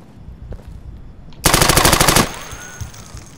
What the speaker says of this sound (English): That was some fucking reflexive shooting.